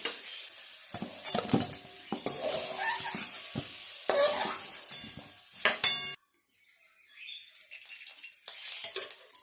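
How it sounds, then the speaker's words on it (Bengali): Potatoes fry in hot oil in a home kitchen and are stirred with a metal utensil, giving loud sizzling bursts broken by repeated scraping and clinking against the pan, then a brief silence before quieter sizzling returns. "নেড়ে চেড়ে একটু হালকা করে ভেজে নেব, তুলে নেব"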